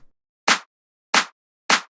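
Three layered house-music clap and snare hits, loud and sharp with quick decays, spaced evenly after a faint tick at the start, with nothing sounding between them.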